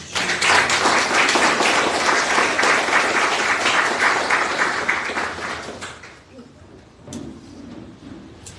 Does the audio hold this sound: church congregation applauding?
yes